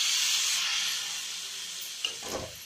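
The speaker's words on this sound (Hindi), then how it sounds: "अब हम डाल देंगे टमाटर और आलू।" Tomatoes go into a sizzling pan of potato and fenugreek curry, giving a loud hissing sizzle that slowly fades, then a brief scrape and clatter of stirring.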